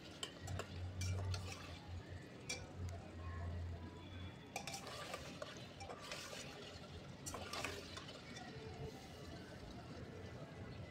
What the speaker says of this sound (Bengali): পেস্টটা দিয়ে এবার ভালো করে আরেকবার কষিয়ে নিচ্ছি।